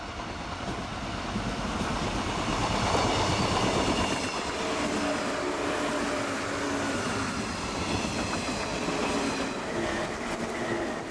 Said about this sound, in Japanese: トロッコ列車を追うように山陰本線を走ってきたのは、京都に向かう新しいカラーの